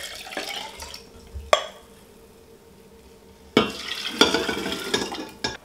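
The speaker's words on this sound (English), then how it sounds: "And then add 1 liter of water." Water is poured into a pot holding Gotu Kola tincture, splashing in two bursts separated by a quiet pause, with clinks and stirring at close range.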